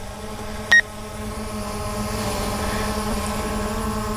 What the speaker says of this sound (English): And now the drone will come back to its original position.